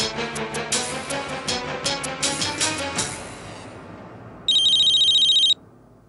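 A telephone rings in a television drama, a bright repeating electronic trill heard over fading background music, followed by one more loud burst of ringing near the end.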